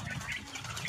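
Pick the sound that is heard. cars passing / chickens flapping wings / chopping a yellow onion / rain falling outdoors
chickens flapping wings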